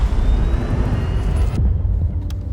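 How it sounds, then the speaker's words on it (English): Layered whooshes, risers and electric car sound effects build as a dense, rumbling swell that cuts off abruptly near the end, followed by a brief quieter tail with a few sharp ticks. "The intro sequence, for example, is a mix of multiple whooshes, risers and some electric car sounds."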